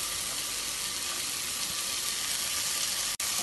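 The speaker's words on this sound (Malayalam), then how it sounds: "ഇത് ഇളക്കി വാഴ്ത്താം" Carrot, beans and green peas sauté in a pan for samak rice pulao, giving a soft, steady sizzle that holds evenly at close range and breaks off briefly near the end, with no voices.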